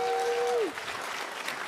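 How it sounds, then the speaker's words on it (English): Steady applause from a crowd at a humanoid robotics talk at Stanford fills the clip, following a brief electronic tone that slides downward at the start. "give our last speakers a big cheer, round of applause"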